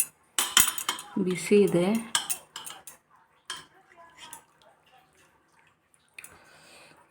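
Cooked sweet corn lifted from a pot onto a plate, with metal clinks, scraping and a few watery drips, a brief spoken remark, then quieter handling toward the end.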